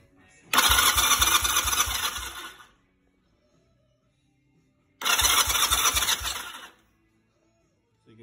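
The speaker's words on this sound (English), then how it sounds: "then we're gonna try and start the bike" A motorcycle with a no-spark fault cranked twice, each loud, close attempt a steady chugging churn lasting about two seconds, separated by silence.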